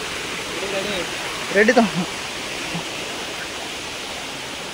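Baba Jatadhari waterfall roars as a steady, broad hiss of falling water throughout, with a brief voice speaking over it partway through.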